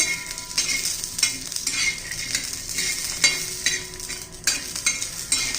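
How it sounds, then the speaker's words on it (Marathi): Peanuts roast in a little oil in a pan, giving a busy close rattle and clink of a utensil stirring and scraping steadily over a light sizzle. "थोडस तेल टाकूया छान अशा खरपूस भाजून घ्यायचे आपल्याला"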